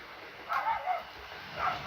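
A dog barks a few times at a distance, short yelping barks in two bursts over a quiet background.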